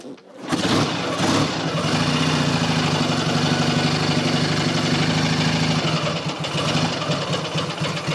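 A Matchless G11 classic motorcycle, kicked over and catching, settles into a steady, loud single-cylinder-style idle that runs close and continuous for several seconds after a brief start.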